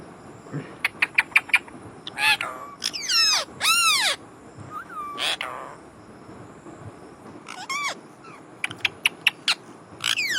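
Several parakeets perched together give bursts of harsh, shrill squawks and rising screeches, some in quick repeated runs and others drawn out, loud and close with short pauses between calls.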